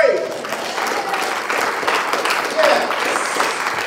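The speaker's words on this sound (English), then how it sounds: "give them a hand clap of praise." A church congregation claps for visiting guests during a Sunday service, a moderate patter of many hands filling the room for a few seconds, with a voice briefly heard over it.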